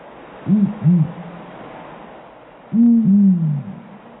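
Two very large owls hoot back and forth in a duet: a pair of deep, close hoots, a pause, then a longer, louder answering pair against quiet background hiss.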